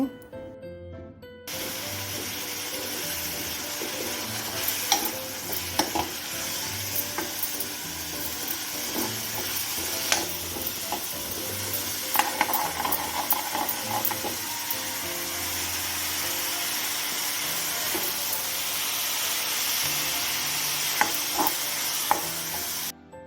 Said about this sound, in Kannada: ನೀರುಳ್ಳಿ ಕೊತ್ತಂಬರಿ ಸೊಪ್ಪು ಟೊಮೆಟೊ ಹಾಗೆ ಕಾಯಿ ಮೆಣಸು ಇಷ್ಟನ್ನು ಹಾಕಿ ನಾನು ಫ್ರೈ ಮಾಡ್ತಾಯಿದ್ದೀನಿ